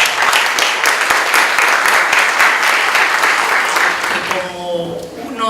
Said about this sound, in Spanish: Les pido un fuerte aplauso para Lucy